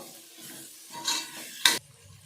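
Horse gram being stirred into masala in a pan, a spoon scraping through the mix in short strokes over a soft sizzle, with one sharper clack of utensil against the pan near the end.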